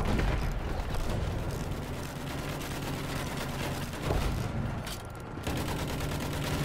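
Tank shelling in a video game, a continuous dense barrage of heavy gunfire and explosive thuds, loud and steady throughout with a few sharper blasts standing out.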